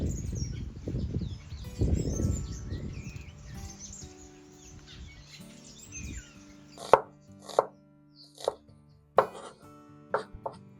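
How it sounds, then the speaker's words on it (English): Sharp knife strikes on a cutting board chopping onions, a series of distinct chops with uneven spacing, preceded by softer rustling and slicing sounds, with birds chirping faintly behind. "So let's get chopping these onions."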